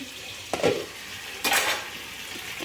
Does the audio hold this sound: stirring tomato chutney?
yes